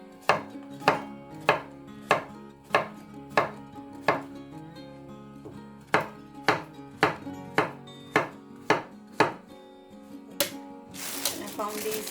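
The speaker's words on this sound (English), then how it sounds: "Cut the courgettes into big chunks as well." Courgettes cut into big chunks with a kitchen knife: a steady run of about sixteen crisp, close knocks on a chopping board at a regular rhythm, with faint background talk and a brief rustle at the end.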